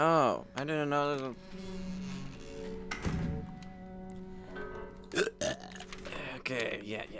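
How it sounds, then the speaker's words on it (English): Loud, drawn-out burps, several in a row, come from a player during a Resident Evil 7 gaming session, with some voice mixed among them. "Why am I burping so much?"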